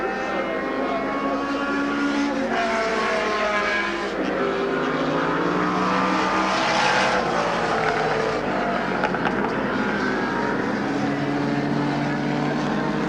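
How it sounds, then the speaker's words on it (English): Big Ford Mustang touring race car of 1969 accelerating at Warwick Farm, a loud, raw V8 engine roar climbing and holding across the track, with other race engines blending in under a commentator's voice. "look at the big Mustang moving badly across as he's on the acceleration"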